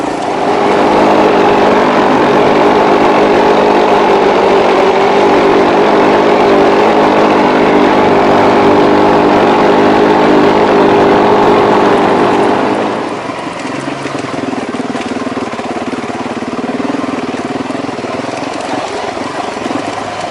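A Husqvarna TE449 450 dirt bike engine runs steadily at high revs with a buzzy drone, then drops to a lower, rougher idle near the end.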